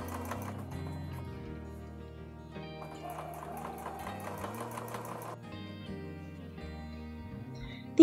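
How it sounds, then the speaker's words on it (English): Sewing machine stitching around a fabric microwave bowl cozy, a steady close mechanical whir with shifting pitch as speed changes, continuous and fairly quiet, ending with a sharp click. "As I stitch around, I'll be sure to go very carefully over the thick parts."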